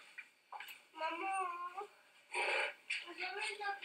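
A cat meows nearby in several drawn-out, wavering cries with short pauses between them, moderately quiet indoors.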